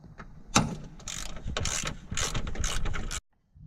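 A ratchet clicks rapidly in short bursts while breaking loose the strut top-hat bolts on a Mitsubishi Evo X during a coilover install, close and crisp, with a metallic clank and a brief pause between runs.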